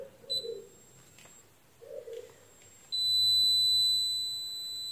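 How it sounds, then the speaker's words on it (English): Multimeter continuity beep while testing a broken Acer headset cable: a few faint brief sounds, then a steady high-pitched tone that sounds and holds to the end. "now check continuity between this ring and this wire"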